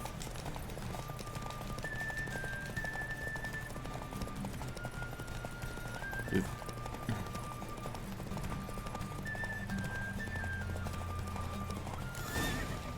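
Roach the horse gallops through a race in The Witcher 3, with steady clip-clop hoofbeats and neighs and whinnies over a continuous game soundtrack, plus a louder burst near the end.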